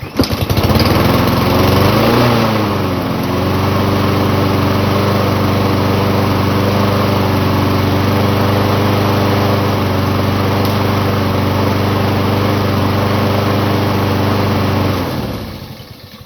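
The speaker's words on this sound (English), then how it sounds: "Let's see if we can fire it up." Husqvarna lawn mower with the choke on, its small engine catching after a pull and then running at a steady loud idle before cutting off.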